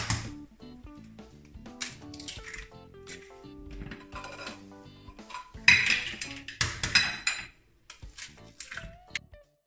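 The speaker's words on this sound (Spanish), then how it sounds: "poner todos los huevos en un bol" Eggs are cracked and dropped into a bowl for a cake amid clinks of shells and utensils against glass, close and intermittent, with some clattering of dishes.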